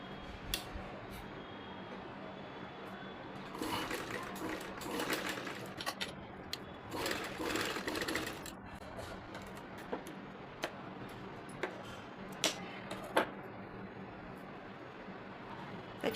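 Home sewing machine stitching fabric with a lining for a wall hanging, a faint rattling whir in short runs and bursts with clicks and pauses between.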